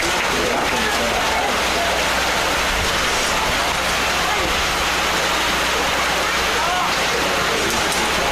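Rain falls steadily on an outdoor American Legion baseball field, a broad, constant hiss of drops lasting several seconds with no other clear sound over it.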